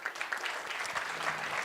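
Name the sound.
applause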